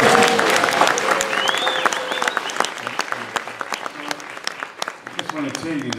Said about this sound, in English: Let's hear some thunderous applause.